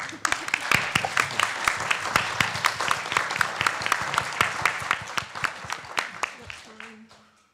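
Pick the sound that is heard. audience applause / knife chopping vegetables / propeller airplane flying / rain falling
audience applause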